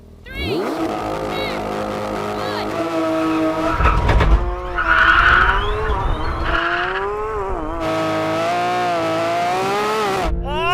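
A Porsche 911 GT3 RS launches hard from a drag race start. Its engine revs and climbs through rising tones, with tyre squeal and a loud, continuous roar close by.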